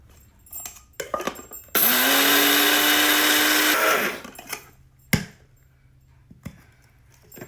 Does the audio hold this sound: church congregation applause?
no